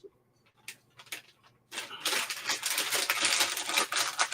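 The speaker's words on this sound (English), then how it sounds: "Excuse the rustling," A sweet wrapper being unwrapped, crinkling and rustling close by in sharp bursts; a few brief clicks come first, then a dense, continuous crackle fills the second half.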